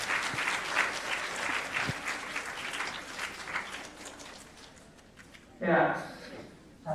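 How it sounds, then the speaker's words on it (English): A crowd applauds at a tech hackathon event, with steady, fairly loud clapping for about five seconds that dies down, followed by a brief burst of another sound near the end. "Huge round of applause, actually."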